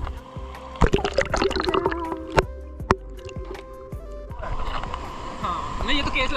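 A waterproof-cased camera is plunged into cold water at Sikhar waterfall, with sloshing, splashing and gurgling bursts and several sharp knocks, while people talk nearby.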